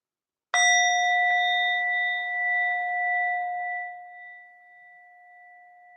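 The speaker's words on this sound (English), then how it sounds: "I'm going to make a small sound with this bell here, and that will indicate the start of the practice in a formal sense." A small meditation bell is struck once to open a practice, ringing out with a clear, pure tone that sustains and slowly fades over several seconds in a quiet room.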